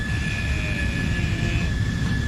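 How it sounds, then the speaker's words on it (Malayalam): An airplane passes with a steady, loud low rumble and a thin high whine that hold throughout, with no voices. "വിമാനം പോണു"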